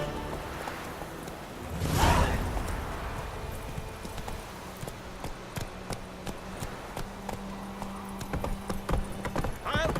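Roach, Geralt's horse in The Witcher 3: Wild Hunt, trots along with a steady, close clip-clop of hooves, a brief whinny or snort near the start, and faint rain in the background.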